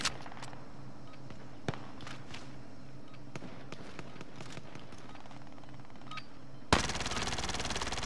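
Sparse gunshots and footsteps in Call of Duty: Modern Warfare on Rebirth Island, a few sharp cracks spread out over a quiet background, then a sudden loud burst of continuous fire at the end.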